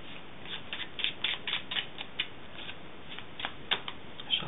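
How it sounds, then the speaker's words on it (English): A deck of playing cards being shuffled during a card trick, giving soft riffling bursts and flicks that come in quick irregular clusters, close and fairly quiet, with no talk. "Shuffle the deck."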